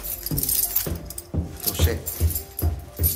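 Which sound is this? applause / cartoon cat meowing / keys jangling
keys jangling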